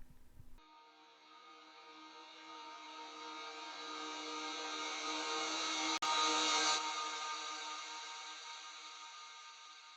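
A sustained, swelling synth drone from a heavily time-stretched riser sample, with dense tonal layers slowly rising in pitch and loudness, broken by a brief click midway, then holding steady.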